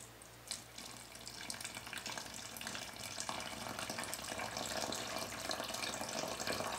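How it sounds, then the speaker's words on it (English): A liter of water is poured into a bottle for a Hercules beetle breeding setup, making a steady, faint splashing trickle that builds slightly over several seconds. "The next move is pour in 1 liter of water."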